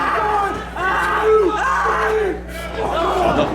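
A wrestler screams in pain during a wrestling match, with loud strained yells and groans rising over a noisy crowd in the arena.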